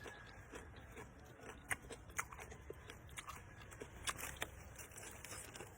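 Raw Chinese kangkong (water spinach), eaten with bagoong and cucumber, crunches in a steady run of close, soft bites and chews over low background noise, with no talking.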